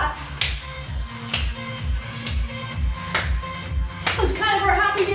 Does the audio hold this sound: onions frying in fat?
no